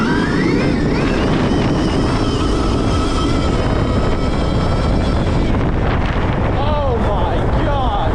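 Stark Varg electric motocross bike in 80 horsepower mode, its motor whine climbing and sweeping in pitch as it accelerates hard, buried in heavy wind roar close to the mic.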